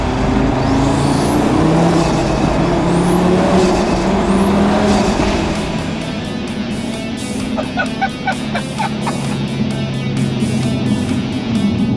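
A loud tuned Audi RS3 engine roars under hard acceleration, with rising gear-change sweeps and a steady, powerful drone as the car speeds along, close up.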